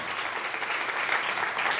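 A church congregation claps loudly and steadily at a resurrection-day prize giving, a dense wash of applause filling the room with no break.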